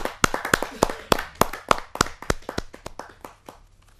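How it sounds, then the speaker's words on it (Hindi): Audience applause greeting a poet at a Hindi kavi sammelan, a burst of sharp, scattered claps from a crowd that thins and fades out over a few seconds, with no voices. "जोरदार ताली के साथ हम उनका स्वागत करें"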